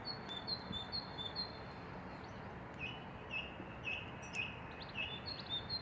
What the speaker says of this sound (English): I can also hear a song thrush doing its thing.